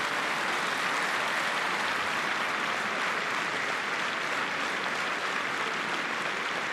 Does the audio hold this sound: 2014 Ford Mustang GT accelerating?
no